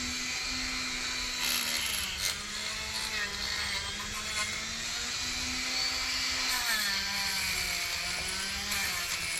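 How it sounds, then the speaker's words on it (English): Dremel spinning a brass wire wheel to clean the engine fins of a 1974 Honda XL250 motorcycle, a continuous close high-pitched whine with gently wavering pitch and scratchy grinding throughout. "Just don't need a lot of speed on the Dremel."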